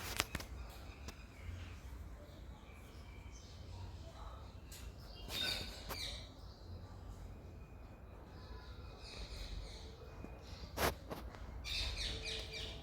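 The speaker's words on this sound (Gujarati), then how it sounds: "હવે જો અહીંયા ચકલીઓ કેટલો અવાજ કરે છે" Sparrows chirp in quick, scattered bursts against a soft background hum, some calls sharper and closer than others.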